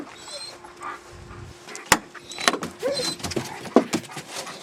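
Dogs climbing into a Ranger utility vehicle on a farm make scattered thumps, claw scrapes and rattles of the cab, with a sharp knock and brief whines, close and irregular.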